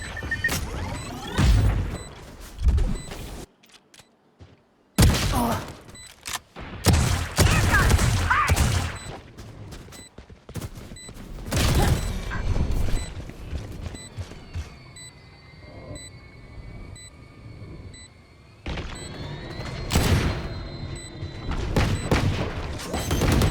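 Video game combat in a competitive match: several loud booms and crashes including a grenade blast, separated by brief quiet gaps and softer mechanical noise.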